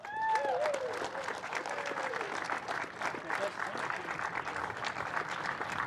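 A crowd at the New Zealand Grand Prix applauds a podium finisher, sustained moderate clapping under an announcer's amplified voice.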